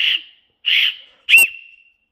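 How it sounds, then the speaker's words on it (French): A small metal whistle found at the top of a beach is blown three times in close succession, each a short, shrill, clear blast, the last one slightly harsher with a breathy burst, no talking. "Le petit sifflet qui a été trouvé aussi sur le haut de plage."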